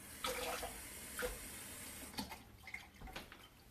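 Tap water runs into an empty tomato sauce can in a home kitchen, a steady faint splashing rush with a few small clunks as the can shifts, with no talking.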